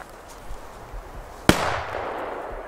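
A single firecracker with red rings goes off in one sharp, loud bang, followed by a fading echo over faint background noise, with no talking.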